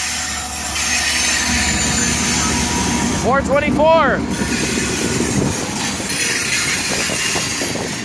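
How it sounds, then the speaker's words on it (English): A CSX freight train rumbles past in a continuous low roar, with a brief squealing wheel or horn-like tone in the middle, as people talk over it nearby. "It's an actual train."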